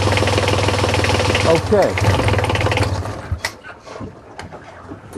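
A starter cranks a modern small sailboat auxiliary engine, with a loud, steady churning whir that runs for about three seconds and then stops, followed by scattered clicks and knocks. A voice speaks briefly over it.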